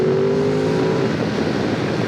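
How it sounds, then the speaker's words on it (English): An approaching car heard from a 2022 Ducati Desert X on the move: a steady engine drone and wind rush that swells slightly, with a brief tonal whine early on and no talking. "Have a car incoming."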